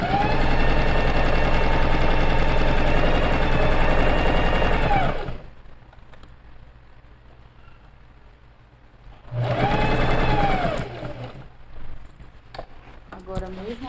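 A sewing machine stitches a pocket built into a bag, with a long loud run, a pause with faint talking, then a second shorter burst of stitching up close.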